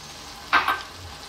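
Vegetarian kale chili given a quick stir in a pot: a brief pair of soft scraping swishes near the close, over a steady low bubbling background.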